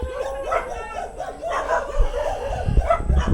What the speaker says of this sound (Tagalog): Dito tayo, may mga aso.